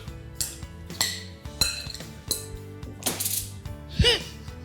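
Diced pumpkin tossed and mixed in a dish on a cooking show, giving a run of close clinks and knocks against the dish, with some bursts of rustling clatter.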